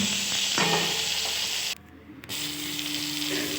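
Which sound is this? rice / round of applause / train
rice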